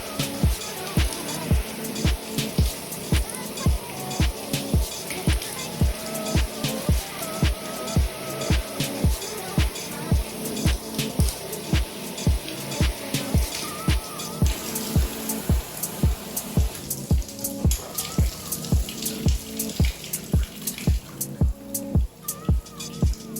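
Running water rinsing conditioned, detangled type 4 curly hair on wash day, a steady close splashing and dripping with rhythmic drops throughout, no talking.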